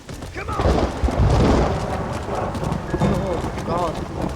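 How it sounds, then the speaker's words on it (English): Rumbling thunder booms roll through the Red Dead Redemption game on Xbox in two heavy swells, mixed with horse hoofbeats, in-game ambience and a voice talking over it. "When you listen to the thunder in this game through surround sound, it sounds like it's happening in your world."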